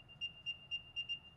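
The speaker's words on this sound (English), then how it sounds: "You can make the AirTag play a sound, which is a new chime from Apple and sounds like this." An Apple AirTag plays its chime from its built-in speaker: five short, evenly spaced electronic tones, faint and alone over low background hiss.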